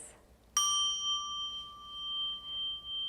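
A classroom mindfulness chime is struck once, giving a bright, clear metallic ding that rings on with a long, pure sustain and slowly fades, alone and close.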